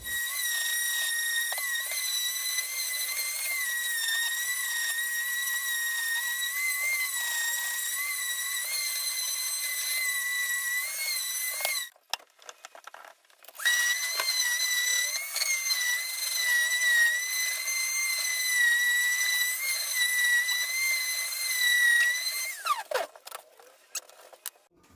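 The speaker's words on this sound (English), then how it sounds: "So now we're going to give it a good sand down" A power sander with 60 grit paper works across a scaffolding board, giving a steady high whine that cuts out briefly near the middle, then resumes and ends with a falling pitch.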